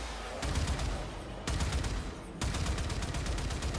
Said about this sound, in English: Firing the cannons seems to raise